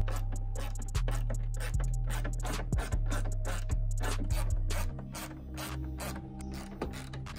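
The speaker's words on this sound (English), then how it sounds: "once it was in place, I tightened the bolts on each side to secure it" A ratchet tightening dashboard bolts inside a VR6 3.2 MK1 Caddy, rapid repeated clicking pawl strokes in several bursts, close and clear, with no talking.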